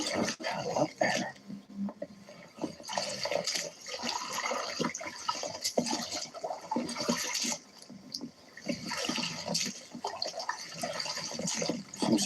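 Paddle strokes on an empty, windy lake, continuous sloshing and splashing water with rushing wind noise throughout, close and fairly loud.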